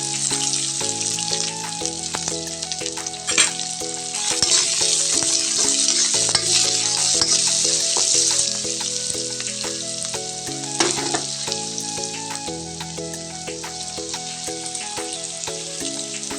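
Onion, bay leaf, ginger and garlic frying in a pan: a steady, close hiss of sizzling oil that goes on throughout, with stirring scrapes now and then, music playing underneath and no talk.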